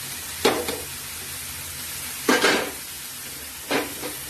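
Tomato, bean and cabbage pieces drop into a hot pan for a mixed cabbage curry, setting off three close, sharp bursts of sizzling over a faint background hiss, with no talking.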